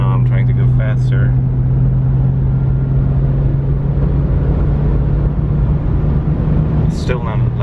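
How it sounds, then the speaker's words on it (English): A BMW 328i fitted with a Magnaflow muffler climbs a hill, its exhaust a steady low drone and rumble heard from inside the cabin, loud and constant with a few brief higher noises. "I'm going to record this exhaust, how it sounds from inside the car going uphill"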